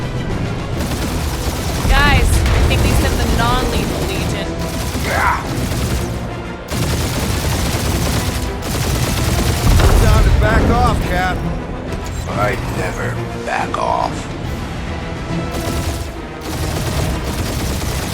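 Gunfire in the Guardians of the Galaxy game during a flying ship battle, loud sustained shooting and booms mixed with character voices talking and shouting over it throughout.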